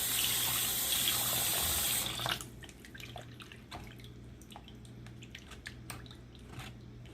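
Salted beef rinsed under a running kitchen tap, a loud gush of water for about two seconds, then quieter drips, squishes and handling of the wet meat.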